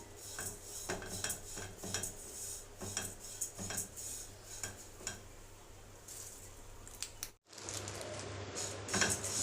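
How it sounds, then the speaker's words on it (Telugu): Flattened rice (atukulu) is stirred in a metal pan on a stove: a spoon scrapes and clinks against the pan in irregular strokes under a faint, soft sizzle, close by and fairly quiet. "కొద్ది కలర్ వచ్చే వరకు ఫ్రై చేద్దాం"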